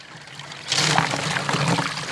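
Water pours and rushes through a very large gold sluice box, starting faint then swelling suddenly into a loud, close, churning flow that keeps going steadily.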